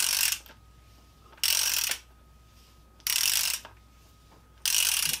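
A ratchet wrench with a 22 mm socket turns a loosened fork bolt on a Yamaha V Star 1300 motorcycle. Three bursts of rapid, close clicking are separated by pauses, with no talk.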